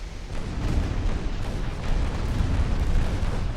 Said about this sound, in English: that's 3 torpedo hits on one ship